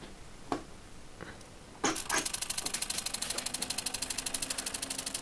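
A bipolar stepper motor driven by an L6219 controller clicks a few times, then starts running with a rapid, even ticking pulse and a steady buzzing tone. It is close and continuous, with no speech.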